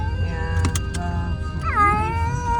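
A close part-Bengal cat gives a single long, wavering meow near the end, after a few short clicks, with a low hum underneath.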